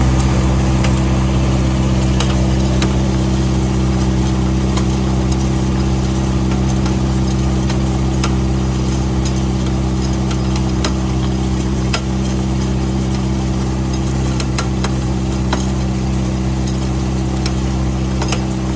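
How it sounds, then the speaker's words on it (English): Loud, steady engine drone from a twin turbo CBR-engined cross kart with a blown wheel bearing, a continuous hum with faint ticking on top and no one speaking. "That pretty spirited driving run blew up what's left of this really old wheel bearing."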